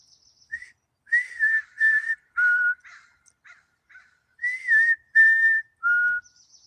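A person whistles an imitation of a bird call, a phrase of clear, bright tonal notes repeated twice with short pauses, close and alone.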